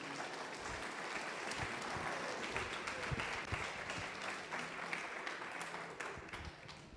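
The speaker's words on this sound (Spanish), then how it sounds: "Dale un aplauso a Jesús." Church congregation applauding together, a steady wash of dense clapping sustained for about seven seconds at moderate level, with no talking over it.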